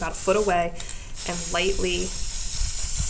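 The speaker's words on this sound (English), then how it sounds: "spray or give a mist over your entire shaded blocks" An aerosol can of final fixative mists over a graphite shaded-block drawing with a steady, close hiss that runs unbroken to the end, after a short stretch of someone speaking.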